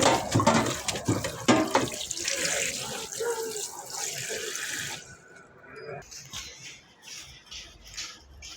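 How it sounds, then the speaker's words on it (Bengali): Dishes are washed under a running kitchen tap while fish cooks nearby: bright water splashing and clatter for about five seconds, then the flow stops and only faint dripping and handling noises remain, with some voice in the background. "এখন একটু থালবাটিগুলো ধুয়ে ফেলি রান্নার পাশাপাশি,"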